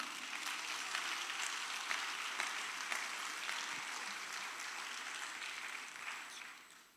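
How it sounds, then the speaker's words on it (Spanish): A church congregation applauds during a sermon, a soft, distant wash of clapping with occasional sharper claps, steady before tapering off at the end. "Quiero que le dé un aplauso a Dios"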